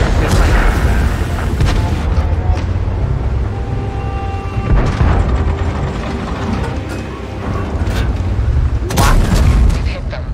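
Artillery shells booming in a World of Tanks battle, loud heavy blasts and rumbling impacts over continuous engine and battle noise, with a couple of sharp bursts near the end.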